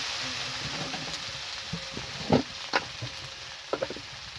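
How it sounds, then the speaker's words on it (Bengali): Rui fish and potato curry with eggplant sizzles softly and steadily in a pan for a Bengali home recipe, with a few brief scraping clinks as it is stirred. "এখন এই ঢাকনাটা তুলে নেব, নিয়ে দেখো নাড়াচাড়া করবো।"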